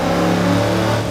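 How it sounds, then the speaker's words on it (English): A car engine revs loudly and steadily at close range, a dense sustained roar with a strong low hum that does not let up for just over a second, with no voices. "this car is way louder than the last one"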